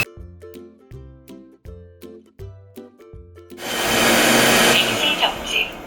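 A Twinboss S9 Pro Master robot vacuum starts a full cleaning run: a series of spoken-prompt chimes and voice tones, then its motor and brushes surge into a steady loud whooshing drone.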